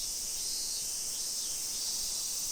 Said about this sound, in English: You can hear the cicada bugs.